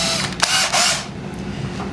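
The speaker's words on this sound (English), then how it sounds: "now we're going to drill the holes" A drill with a countersink bit bores holes into wood over a scrap backing piece in a workshop, a brief whirring burst that cuts in sharply and fades out within a second.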